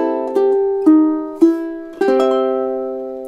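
A ukulele plays the closing coda bar of a song, a handful of bright plucked notes in a steady rhythm ending on a ringing chord, close and clear.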